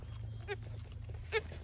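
A goat gives two short, quiet bleats about a second apart over a low background hum.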